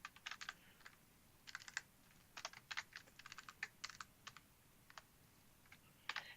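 Fingers tap out short irregular bursts of keystrokes on a computer keyboard, crisp and close but quiet, with brief pauses between clusters and no talking.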